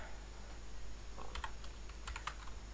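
Quick bursts of typing on a computer keyboard as a command is entered: a short run of light, crisp key clicks, faint and close, alone in a quiet room.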